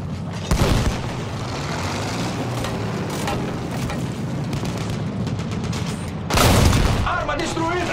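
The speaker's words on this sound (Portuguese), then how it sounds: "Cuidado! Granadas anti-tanque!" Heavy booming blasts of anti-tank grenades and rattling gunfire in a dense Battlefield 1 battle din, with a loud explosion near the start and another big one toward the end.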